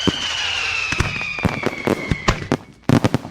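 Fireworks go off in a South Park cartoon: a rapid, irregular run of sharp bangs and crackles, close and loud, over a whistling tone that slowly falls in pitch.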